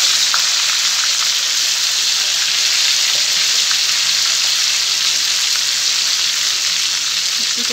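Chicken pieces frying in hot oil for murga musallam, a loud, dense, continuous sizzle, close and steady from start to finish.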